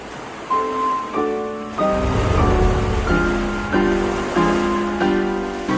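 Ocean waves near a reef wash in steady, rushing surges. Slow, sustained musical tones play over the surf.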